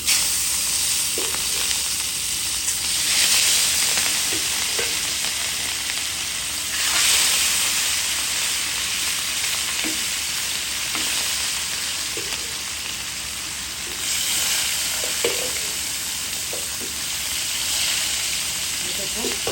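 Rohu fish sizzling steadily in hot oil in a pan, a loud continuous frying hiss with a few soft clinks and stirring sounds, lasting throughout with no talking.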